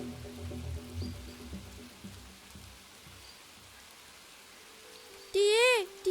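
Cartoon rainfall patters steadily and softly in a bird story, with faint voice-like tones early on and a sharp, warbling squeal near the end.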